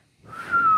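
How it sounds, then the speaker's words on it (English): A person whistles a single clear, steady tone that rises out of near silence and holds for the last half second, close and fairly loud, with no talk over it. "That's a whistle."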